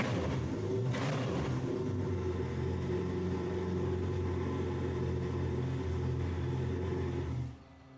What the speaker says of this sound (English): Now to start the vehicle, you'll simply press the 1 and 2 buttons.